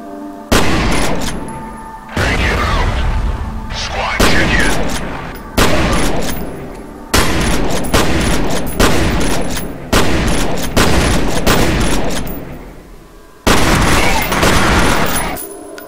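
Loud shotgun blasts ring out in the first-person shooter game F.E.A.R., about eight heavy booming shots spaced roughly a second or two apart, each with a sharp crack and rolling tail, plus a pause before the last one.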